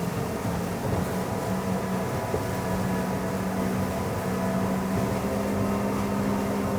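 A ZAR 95 SL maxi RIB cruises at 30 knots around 4,700 RPM, its outboard engine drone steady and loud, blended with constant rushing wind and water noise and no talking.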